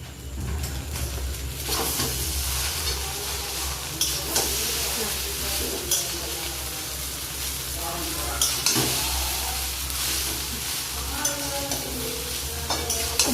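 Chow mein with eggs stir-frying in a pan: a steady close sizzle and hiss with scraping stirs and occasional clinks of utensil on metal, continuing throughout at moderate loudness with a faint voice now and then.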